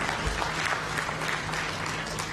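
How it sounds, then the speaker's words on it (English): An audience at a large annual members' meeting of a national social security fund claps its hands in steady, dense applause that carries evenly throughout, moderately distant and without any voices over it. "I expected a louder hand clap for Nssf"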